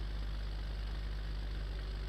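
A tractor engine in a farming video game drones steadily at a low, even pitch, a continuous heavy rumble with a faint hum and no other sound.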